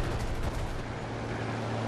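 In a video game, a King Cobra's 37mm cannon fires a short burst of rapid, rumbling shots that blend into a dense roar over the droning aircraft engine.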